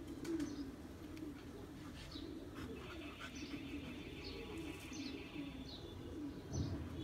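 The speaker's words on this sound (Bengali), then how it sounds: "দোয়েল কবুতর এগুলা।" Pigeons of the Doyel breed coo steadily in a breeding room loft, their low rolling calls continuous and close, with scattered higher chirps and a few brief wing flaps alongside.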